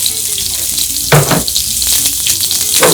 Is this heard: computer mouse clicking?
no